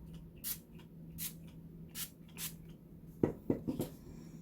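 Several soft, quick hissing bursts of a face mist spray sound close by at an even pace, followed by a few light tapping and handling noises.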